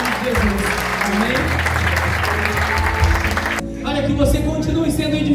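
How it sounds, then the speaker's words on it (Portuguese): A church congregation breaks into sustained applause filling the room, a dense wash of clapping that carries on steadily from start to finish. "E recebido com aplauso ao Senhor. Em toda a igreja."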